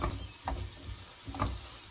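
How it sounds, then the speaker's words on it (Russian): Onion and garlic sautéing in about two tablespoons of vegetable oil in a frying pan, a steady soft sizzle with occasional stirring scrapes of the spatula, close and moderately quiet, no voices. "и пассируем лук с чесноком."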